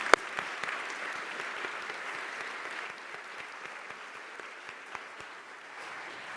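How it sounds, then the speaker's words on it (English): A conference audience applauds the panelists after a session, steady mid-distance clapping from a sizable crowd, even and sustained, tapering slightly toward the end. "Please join me in a round of applause."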